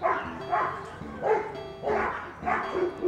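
Neighbouring dogs bark in a garden setting, four or five loud, evenly spaced barks in quick succession that carry clearly over a quiet background.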